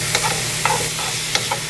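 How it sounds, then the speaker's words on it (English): Ground beef frying in a pan while a plastic spoon stirs it: a continuous close sizzle with three distinct scraping strokes spaced about half a second apart, and no talking. "I'm gonna add my ground beef to that. Let's give this a nice swirl."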